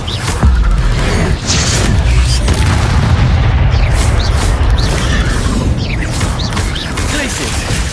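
An Incendio fire spell in Hogwarts Legacy erupts in loud, dense booms and crackling blasts that keep going, with a voice briefly heard over the combat noise.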